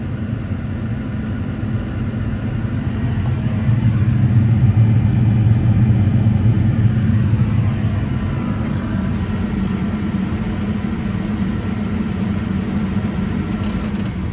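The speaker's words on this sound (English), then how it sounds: "However, when I rev the machine up, oh my good lord." An engine on a machine with rotten plugs, a bad wiring harness and fuel pressure problems revs up into a loud, rough, sustained rumble with an uneven, stuttering texture, then settles slightly, heard close with no talk.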